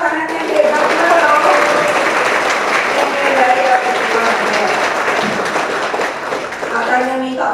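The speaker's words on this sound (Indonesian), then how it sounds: "Ayo tepuk tangan yang hebat loh." A crowd at a political gathering in Indonesia breaks into loud, sustained applause, with voices calling out and cheering over the clapping throughout.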